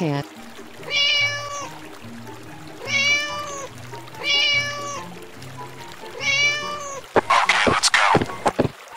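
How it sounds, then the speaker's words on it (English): A cartoon cat meows four times in long, evenly spaced calls over a gentle children's melody, followed by a short burst of pouring, splashing noise. "Cat. Meow. Meow. Meow. Meow."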